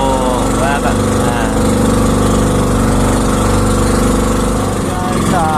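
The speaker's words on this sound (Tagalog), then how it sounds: "medyo malakas ang motor, ang tunog ng motor, kaya medyo masakit sa tenga" A loud motorcycle engine drones steadily and close throughout, a constant rumbling roar with no pauses.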